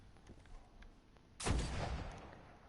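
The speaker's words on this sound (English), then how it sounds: "Scout rifles, and hand cannons, like I'm using right now is a hand cannon" A hand cannon fires in the video game Destiny, a single sharp, loud shot that bursts in and rings out into a broad reverberating tail, following a stretch of faint background game ambience.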